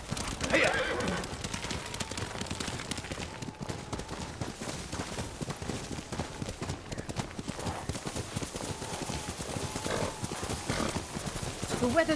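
A horse's hooves clip-clop steadily in the snowy game world of Ghost of Tsushima, with a neigh rising over the ride and faint game effects in the background.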